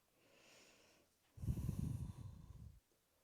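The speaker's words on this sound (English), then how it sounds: "Nice long deep breathing." During yoga practice, one soft inhale is followed by a longer, forceful, breathy exhale through the nose and mouth, close and slightly rasping, then quiet.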